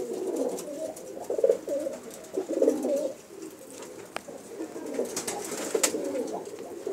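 Breeding pigeons of fine stock cooing in a loft, repeated soft throaty coos rising and falling in bursts, close and clear, with a few sharp clicks and rustles between calls.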